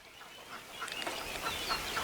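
Faint duck calls on a farm, a few scattered quacks and clucks at a distance over a quiet outdoor background, growing slightly busier toward the end.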